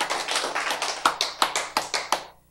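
Audience clapping in a lecture hall: a burst of hand claps that thins out into a few separate, fading claps, close and fairly loud, with no one talking.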